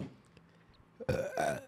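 A loud burp lands right into a close microphone in two throaty bursts after a moment of quiet room noise.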